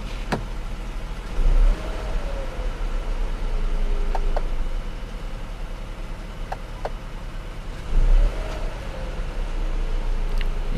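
A Mercedes-Benz C 200 EQ Boost mild-hybrid engine catches on its own with a brief low rumble, settles into a smooth hum, then starts again with a second rumble later.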